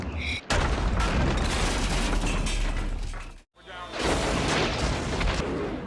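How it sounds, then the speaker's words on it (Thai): A CGI bomb dropped from a plane blows up the USS Arizona in a Michael Bay film, giving loud, dense rumbling blasts that fill the clip, with one brief drop to near silence midway before the roar returns. "ระเบิด CGI ซึ่งถูกปล่อยจากเครื่องบินลบ ไประเบิดเรือ USS Arizona"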